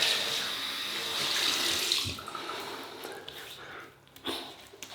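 Water runs from a tap as whiskers are rinsed off a single-edge razor, a strong close splashing stream that tapers off partway through, followed by faint drips and handling sounds.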